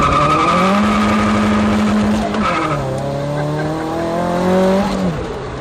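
A 1990 Nissan 240SX with a turbocharged SR20DET engine runs on a closed course, its engine note loud and continuous, rising and falling across gear changes, with tire squeal and skidding throughout.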